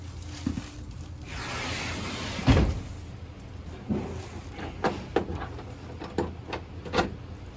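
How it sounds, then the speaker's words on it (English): A small sliding door inside a 2021 Avenger 26BK travel trailer is unlatched and slid open, with a rolling rumble, a solid thump, then several light clicks and knocks nearby. "The door in here is just a little slider, so you got that travel latch there. Just undo that, just slide the door."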